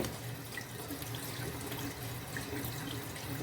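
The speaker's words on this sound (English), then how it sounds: "Rinse your greens." Spinach is rinsed under a running kitchen tap, with a steady, even rush of water splashing into a sink throughout and no voices.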